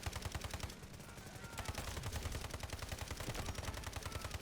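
A CAR-15 rifle fires in Delta Force, rapid, continuous automatic bursts crackling in a dense rhythmic stream, briefly easing before resuming loud and sustained, with other gunfire mixed in.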